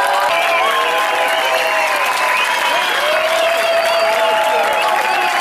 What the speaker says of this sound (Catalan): Jo he notat cert avantatge en l'ovació a la fardatxa.